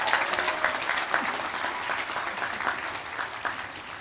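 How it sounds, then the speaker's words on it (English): Audience applause at a university graduate and professional commencement ceremony, sustained dense clapping from a large crowd in a hall, steady and moderately loud throughout. "please feel free to applaud them again"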